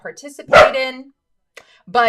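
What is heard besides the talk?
dog barking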